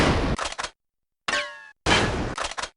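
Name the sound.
gunshots in the video game Final Fantasy VIII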